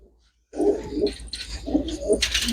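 Close pigeons cooing in soft, low repeated phrases, two or three coos in a row, with a brighter rustle or flutter at the end.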